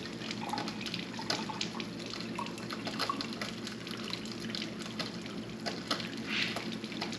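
Kangen-machine alkaline water at 9.5 pH pours steadily into a glass sprouting jar for alfalfa seeds, making a continuous close splashing, trickling wash with small drips and no pauses.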